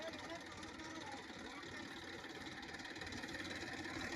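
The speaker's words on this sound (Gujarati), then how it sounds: "પેલું ટ્રેક્ટર પણ ચાલુ થઈ ગયું છે હવે વચ્ચેનું ટ્રેક્ટર પણ ચાલુ કર્યું છે અને આ પહેલું ટ્રેક્ટર પણ ચાલુ કર્યું છે" Massey Ferguson 1035 tractors stuck in a grass-loaded field, their diesel engines running in a steady, continuous low rumble with a faint rhythmic knock throughout, and a voice talking over the noise.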